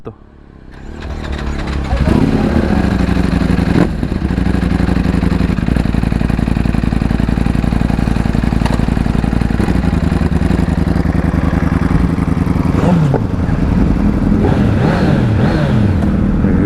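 Kawasaki inline-engine motorcycle running smoothly at a steady idle, a close, continuous low engine drone with slight pitch shifts toward the end.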